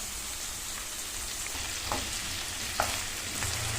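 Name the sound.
cut potatoes added to frying onions in pan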